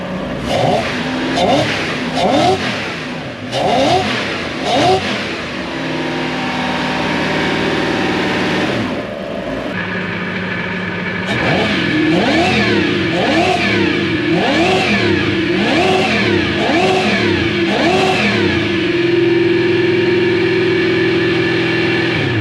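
A boat's 1UZ V8 sterndrive engine revs repeatedly in short rhythmic bursts, settles into a steady drone, then revs again in a series of quick pulses, loud and close.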